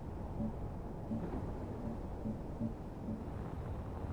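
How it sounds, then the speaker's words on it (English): Low, steady rumble of thunder from a storm in a concrete-building video game, rolling continuously and fairly faint with no talk over it. "Ooh, I hear thunder."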